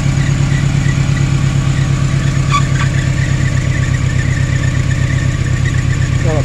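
A Dodge Ram engine idles with a belt squeal, a loud, steady, close mechanical drone with a faint higher whine briefly rising over it partway through.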